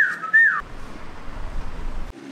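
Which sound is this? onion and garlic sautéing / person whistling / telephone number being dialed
person whistling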